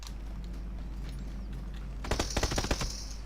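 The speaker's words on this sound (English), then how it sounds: "More gunfire." Gunfire in the PUBG battle game: a quiet stretch, then a burst of rapid, closely spaced shots near the end, loud and sharp with a bright ringing tail.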